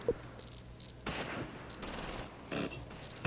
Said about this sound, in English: We're getting hammered with all kinds of incoming fire.